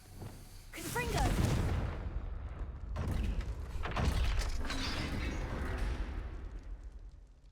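A Confringo fire-spell blast in the video game Hogwarts Legacy sets off a booming burst followed by a rumbling roar and crackling debris that slowly fades.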